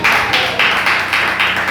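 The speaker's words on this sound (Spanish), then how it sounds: "Si le puede regalar una ofrenda de alabanza al Señor con sus palmas." A church congregation claps their hands in praise, loud and close, with bursts of dense clapping swelling in a steady rhythm of roughly three-beat surges.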